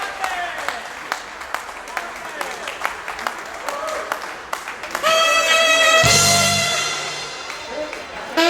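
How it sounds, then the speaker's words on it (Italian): A festival crowd at an outdoor Festa dea Poenta in Castelminio di Resana claps in scattered, rhythmic slaps, then a swell of applause and cheering rises as music and voices come in over it. "Ci vuole l'applauso grande, come sapete fare voi, per un gran finale!"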